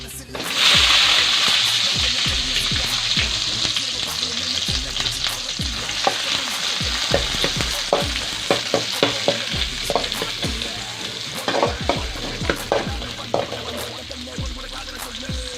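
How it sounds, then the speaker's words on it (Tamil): Sliced onion with cinnamon and cloves fries in hot oil, a loud steady sizzle broken by repeated scraping stirs and spatula knocks against the pan, close up. "நல்லா கோல்டன் ப்ரௌன் வறுத்துங்க"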